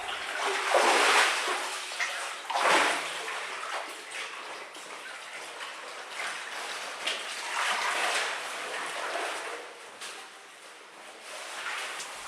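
Cavers wade and splash through water in the Bathtub passage of Clarksville Cave, with uneven sloshing and trickling that swells and fades and echoes faintly, with no talk.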